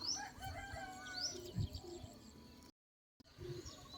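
A rooster crows a couple of times at a distance amid background clucking and bird calls, with a brief dropout near the end.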